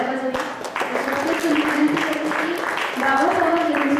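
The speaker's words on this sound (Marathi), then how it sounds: "सगळ्यांनीच जोरदार टाळ्या वाजवल्या" Loud applause from the audience at Dr. Vanita Paranjape's book publishing event, a sustained dense clatter of many hands lasting several seconds, with voices audible underneath.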